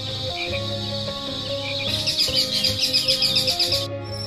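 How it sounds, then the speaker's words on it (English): Birds sing and chirp in quick high trills over a steady layer of sustained tones, strongest in the second half, with no voices. "Birds."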